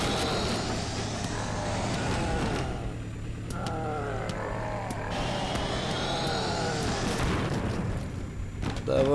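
A car engine revs and roars in a zombie-smashing driving video game, with game thuds and booms layered over a steady motor drone at moderate level.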